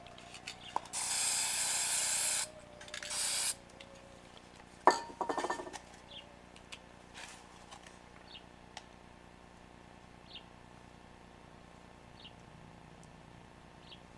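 Spray paint for black-and-white spray art hisses out in two close bursts, a long one then a shorter one, followed by a brief rattle and clink, then quiet.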